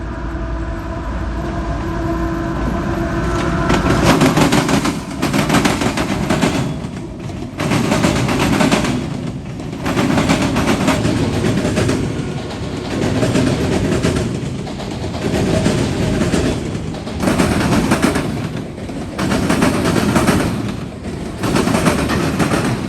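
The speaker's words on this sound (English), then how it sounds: "M217 can be seen westbound at AC Tower in Marion, preparing to cross the NS Sandusky Line diamond." CSX freight train M217 rolls westbound across the NS Sandusky Line diamond at AC Tower in Marion, wheels pounding out loud, regular rhythmic clatter bursts over a steady rumble, close by with no voices.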